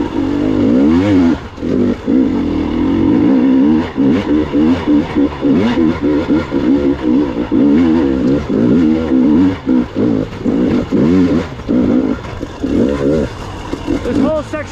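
Dirt bike engine revving hard on a mountain trail during a wheelie, loud and close with rising and falling throttle sweeps throughout, while a rider's voice talks over it.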